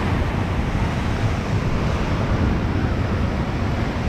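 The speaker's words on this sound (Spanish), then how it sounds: "La marea está muy fuerte" Strong tide and waves wash against coastal rocks in a continuous broadband roar, with wind buffeting the microphone throughout and no voices.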